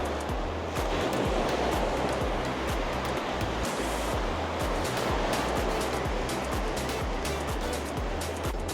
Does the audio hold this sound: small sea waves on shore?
yes